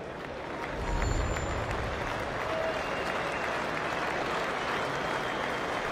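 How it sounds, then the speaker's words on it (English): A cricket crowd at an Ashes Test match gives a warm, sustained round of applause for a bowler after a five-wicket haul, a broad, even wash of clapping from a large stadium audience. "Warm round of applause for Ryan Harris."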